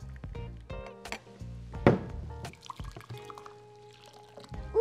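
Hot water pours into a cup in a kitchen while dyeing Easter eggs, a short liquid splash and trickle amid faint clinks and handling noises, quiet and with no talk.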